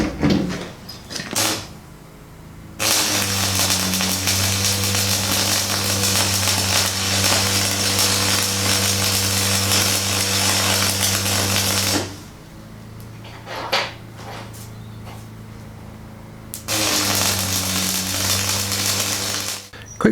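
A large stick welder working on thick metal plate during a hole-plugging car repair produces steady buzzing crackle in three long bursts, with short quiet pauses and clunks between runs.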